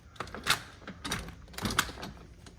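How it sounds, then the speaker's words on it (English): A sticking patio door in a house being cleared out is worked open and locked, giving a few separate knocks, thunks and rattling clicks at close range with no talk. "Oh, and I've managed to make the door stick."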